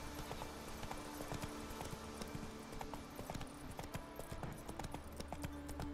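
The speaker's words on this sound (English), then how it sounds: "Run, Roach." Horse hooves gallop in The Witcher video game, a steady, rapid clip-clop rhythm that continues throughout at moderate volume, with no speech.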